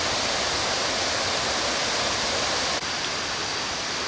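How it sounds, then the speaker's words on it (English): The main waterfall at Kuang Si Falls near Luang Prabang thunders in a continuous, loud, dense roar of falling water, heard close and alone, with a slight dip in level partway through. "the main waterfall at Kuang Si"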